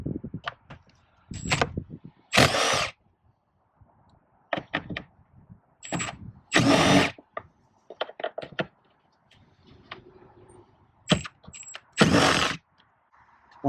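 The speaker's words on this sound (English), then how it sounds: "First thing we're going to do here is remove these three bolts" Power tool backing out air filter housing bolts on a Ram truck with a 6.7L Cummins: several short, loud whirring bursts in separate groups, close up, split by quiet pauses and small clicks, no talk.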